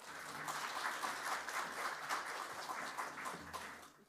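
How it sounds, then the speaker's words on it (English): Audience at a summer institute student orientation applauding a speaker as she comes up, a faint, distant patter of clapping throughout. "Give her a round of applause."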